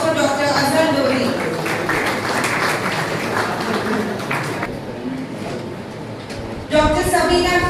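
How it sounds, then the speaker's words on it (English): Applause from an audience at a college alumni meet, mixed with a voice over a loudspeaker, dipping for a moment and then swelling again near the end. "Ladies and gentlemen, a big round of applause for Dr. Sabina Khan."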